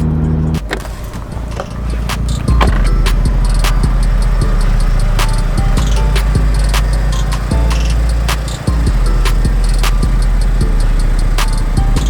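A rusty Mitsubishi Evo 8 runs on its maiden drive, a loud steady engine drone under repeated sharp clicks and knocks from inside the car, with one brief dip in the engine sound partway through.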